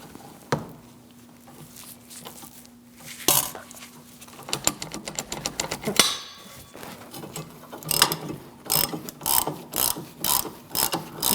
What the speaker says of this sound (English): This bolt's a little too tough to get out with that angle, so I'm using a breaker bar.